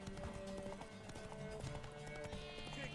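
Galloping horse hooves in The Witcher 3, racing toward a tower: quick, steady clip-clop beats over swelling game music, with a faint whinny and some voices in the mix.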